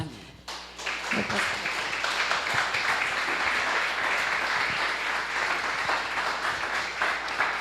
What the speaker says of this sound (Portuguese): E as palmas.